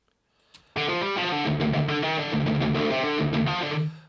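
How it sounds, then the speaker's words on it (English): A distortion section of a virtual instrument played solo in a rock composition: after a brief click, a dense, buzzing, heavily distorted tone sounds loud and steady for several seconds with shifting pitches, then stops. "so it sounds awful with just the distortion section on its own"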